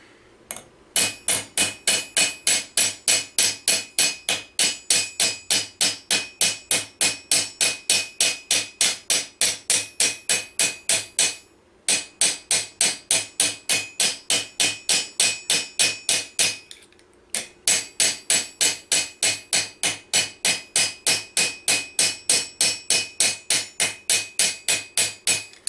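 Steady rhythmic hammer blows on medieval armour plate, rubbing out creases with the hammer face, loud and close in long regular runs broken by two short pauses.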